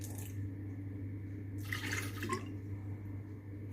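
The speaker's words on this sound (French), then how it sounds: "je vais peser 150 g d'eau. Donc, je mets mon eau." Water is poured into a Compact Cook Pro bowl fitted with a four-blade knife for pizza dough, a short splashing pour of about one second over a constant low appliance hum.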